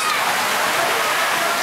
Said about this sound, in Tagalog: Kaya, makita mo ulan, no? Yan ang ulan.